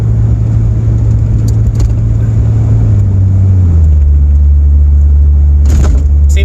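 Inside a Jeep XJ on the road, its automatic transmission shifts while driving: a loud steady engine drone drops noticeably in pitch midway as the gear changes, with a brief rattle near the end.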